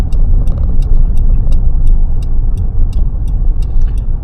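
A car drives steadily during a driving test on a road route, with a loud, continuous low rumble of engine and road noise and a regular ticking, like a turn indicator, running throughout.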